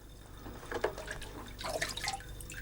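Cold water splashes and trickles into the cooling tank of a traditional copper alembic still distilling wine into aguardiente, with irregular drips and pours at close range and no talking.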